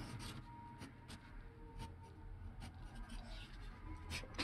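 A pen scratches out an equation in soft, quiet strokes, with short bursts of writing and small pauses between them.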